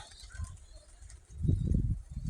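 Soft low cooing of pigeons in a village, a few muffled calls close by with faint background noise.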